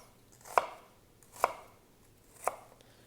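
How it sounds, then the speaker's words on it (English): Three sharp, isolated knife strokes chopping an onion into even pieces on a cutting board for red lentil soup, evenly spaced about a second apart, close and crisp with quiet between each. "we're going to chop our onion into even pieces"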